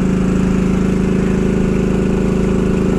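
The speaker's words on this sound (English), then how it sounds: "Does that drilling pump work?" A drilling pump engine running at a steady idle-like chug, loud and close, a continuous rhythmic mechanical drone with no voices.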